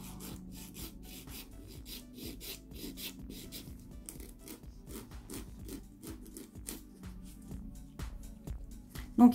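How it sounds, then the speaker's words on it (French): A nail buffer rubbed briskly over natural fingernails to remove leftover gel, giving a quiet, rapid series of rhythmic scratchy strokes, close up and alone. "Un petit coup de buffer."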